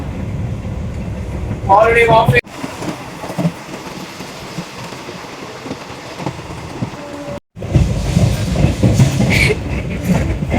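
Train rolling on rails during a solo train journey, a steady broadband rumble with a loud stretch early, a brief sharp cut near the middle, then louder running noise, with voices heard in places.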